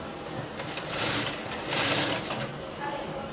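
A sewing machine stitches the round neckline of a full-sleeve gown, running as a close, steady mechanical whir that swells louder twice in the middle.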